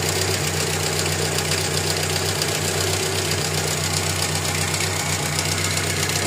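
A Mazda 323 engine idles steadily with a rough, knocking exhaust note, continuous and close throughout, with no talking.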